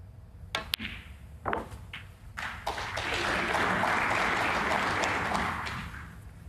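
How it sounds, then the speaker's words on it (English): A snooker crowd at the German Masters semi-final breaks into applause after a shot. A few sharp clicks and taps come first, then a sustained, moderately loud patter of clapping that gradually fades. "it's a smattering of applause almost every shot,"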